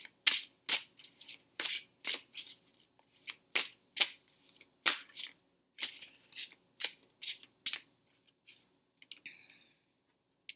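A deck of tarot cards is shuffled by hand close up, giving a quick, regular series of crisp riffling flutters and soft slaps, about a dozen in a row before tapering into a few light taps.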